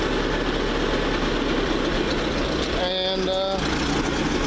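A vehicle engine idles steadily in the background throughout, a continuous low rumble that stays loud and even, with a brief word spoken over it near the end.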